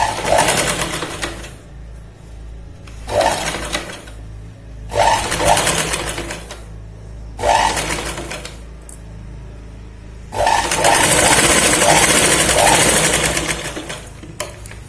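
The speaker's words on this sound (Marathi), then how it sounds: "परत या पॉइंटला डबल शिलाई होईल आणि शोल्डर पर्यंत येऊया आपण" A sewing machine stitches double seams on a katori blouse toward the shoulder, running in several loud bursts separated by short pauses, with a longer steady run at the end.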